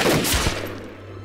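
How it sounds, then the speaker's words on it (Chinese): Gunfire in a wartime battle scene: a rapid cluster of loud, crackling shots in the first half second, then a lingering rumble and low hum. "开枪干他的！"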